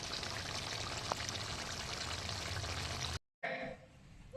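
Koi fish curry being poured from a pan into a serving dish: a steady, close liquid pour with wet splashing that runs for about three seconds, then stops short, followed by fainter kitchen sounds.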